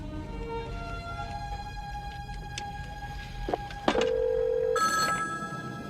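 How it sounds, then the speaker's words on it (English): A telephone rings in a drama scene, sounding as a couple of short electronic trills near the end, over quiet room tone and a low background hum. "Telephone?"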